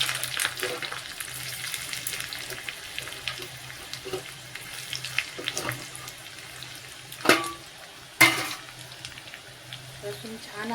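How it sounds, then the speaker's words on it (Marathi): Garlic and red chillies frying in hot oil for a tadka, a steady close sizzle and crackle with occasional louder clatters of stirring, while someone talks over it. "लसूण छान असा खरपूस भाजून घ्यायचा."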